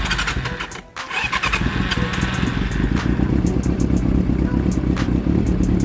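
A Honda CB400 motorcycle with a fault that keeps it from revving hard sits at idle. Its engine runs loud and close with a steady, rapid clatter, and a brief dip near the start.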